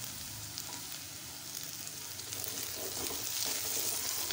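Oil sizzling and frying in a pan while cooking a fenugreek (methi) vegetable dish with carrots, a steady dense hiss that swells louder toward the end, close and continuous with no talking.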